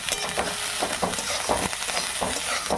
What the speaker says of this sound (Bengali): এই দেখুন ছাতুটা আমার ভাজা হচ্ছে।